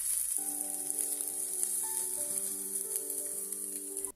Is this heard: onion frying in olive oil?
yes